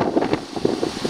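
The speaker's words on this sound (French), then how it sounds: "le vent qu'il y a là." Wind gusting around a solo tent bivouac on a cold day, buffeting the microphone in loud low rumbling puffs that come and go in quick pulses over a brief moment, with no talk.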